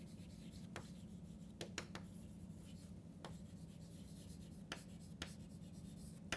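Chalk or marker strokes on a lecture board, with short scratchy taps and a few stroke bursts over a steady room hum, no talking.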